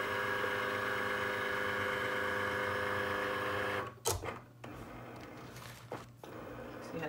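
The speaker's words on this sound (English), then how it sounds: "the Cricut is going to cut around the black line" A Cricut cutting machine runs a print-then-cut pass around a printed black line: a steady mechanical whir and hum for several seconds, then brief bumps and shifts as the carriage moves, fairly close.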